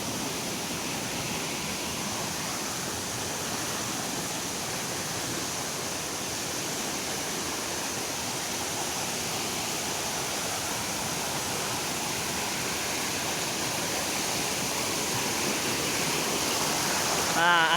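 Waterfall Glosor and its flowing stream pour in a constant, broad wash of rushing water, fairly close and steady throughout, growing slightly louder toward the end with no clear speech over it.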